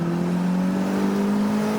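A 275HP Toyota MR2 Spyder Turbo engine holds a steady, loud drone while driving, its tone rising slightly as the revs climb, with no talking over it.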